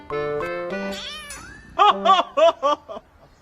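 A young kitten meows in a house, several high, drawn-out cries up close, followed by a quick string of four or five shorter, sharper mews.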